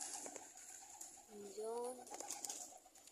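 Domestic pigeons cooing softly in short, low warbling phrases around the middle, heard at a distance while people talk nearby and birds are flown overhead.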